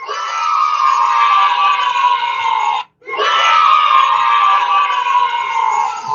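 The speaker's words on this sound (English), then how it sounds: "give us some cheer" An audience cheers loudly, a dense roar of screams, whoops and shouting that breaks off abruptly for a moment, then surges back just as strong.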